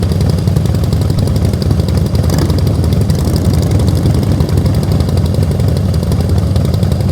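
A motorcycle engine runs steadily at low, even revs during slow clutch-control riding practice, a loud continuous rumble with no revving, filling the whole clip without talk.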